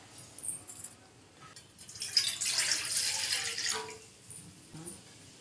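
Water is poured into a pan while preparing a homemade hair tonic, a soft splashing trickle that builds to a steady stream for a couple of seconds and then tapers off, heard close and fairly quiet.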